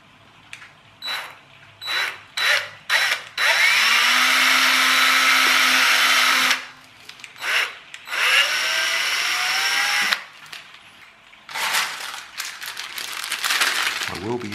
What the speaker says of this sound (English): so if I drill a hole in the middle of that lot, that should be the centre